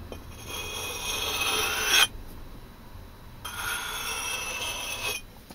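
Steel blade scraped across a budget sharpening stone outdoors, two sustained rasping strokes of about two seconds each, fairly close and moderately loud, separated by quieter pauses, with no talking.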